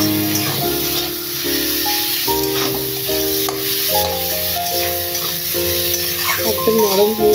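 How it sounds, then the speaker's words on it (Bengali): A little onion and capsicum sizzle in a frying pan, with a steady hiss running under louder background music, as part of a home-cooked Bengali Christmas dish. "সামান্য একটু পেঁয়াজ আর ক্যাপসিকাম নিয়ে দিলাম।"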